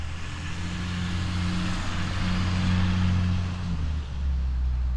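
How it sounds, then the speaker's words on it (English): A FedEx delivery truck drives past on a residential street, its engine rumbling up close and loud as it passes and then fading slightly as it moves away. "It was a FedEx truck."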